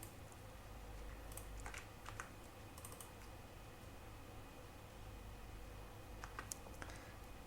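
Soft, quick keystrokes typing code on a computer keyboard, irregular clusters of light clicks over faint steady hum, quiet and close with no talk.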